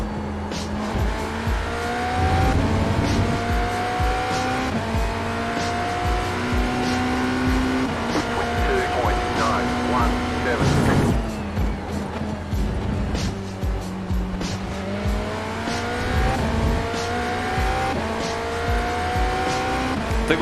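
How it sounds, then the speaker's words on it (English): A race car in the iRacing sim, an IMSA GTE car at the Red Bull Ring, with its engine droning and shifting through gears while locked tires squeal in repeated bursts, loud and close throughout. "No front end grip. Locking up the tires real easy."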